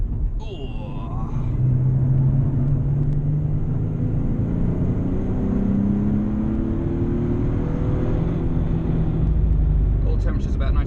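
A Nissan 370Z accelerates on track at Rockingham, its engine drone rising steadily through a gear under strong wind and road noise from inside the car, loud and continuous.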